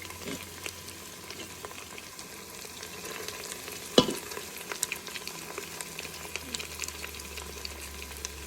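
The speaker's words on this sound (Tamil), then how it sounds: "இதை நல்லா வதக்கிக்கலாம்" Carrots, green peas, coriander and mint sauté in a pan for vegetable biryani, a faint, quiet sizzle with light stirring and one sharp utensil knock partway through.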